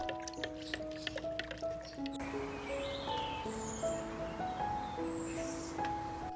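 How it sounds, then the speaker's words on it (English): A liquid plant solution for orchids being stirred, with soft sloshing, drips and faint swishing up close, quiet and unhurried with no talking. "Just give it a good stir."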